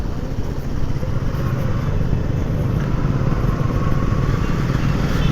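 A motorcycle carrying three riders without helmets runs along a highway, its engine a steady, loud drone mixed with wind rush that holds evenly throughout, with no talk.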